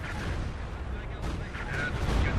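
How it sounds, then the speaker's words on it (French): Stuka dive-bomber barrage in Company of Heroes 2, a low rumbling series of explosions and artillery booms heard in the background, moderately loud and continuous, with someone talking over it. "Barrage de Stuka."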